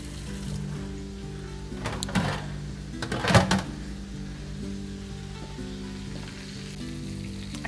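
Breaded beef milanesa sizzling as it fries in a pan, a steady close hiss broken by a few brief clatters from handling the pan, with no talk.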